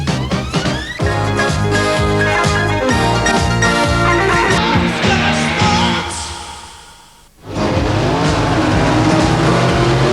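Top Fuel drag racing cars at a 1992 NHRA national event in Canada roar at full, thunderous volume, engine harmonics rising as they launch, with the noise briefly dropping before another loud blast takes over.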